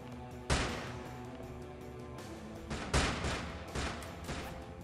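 Heavy shotgun blasts in a video game, three loud booming shots spaced a couple of seconds apart over a constant rumbling background of game action.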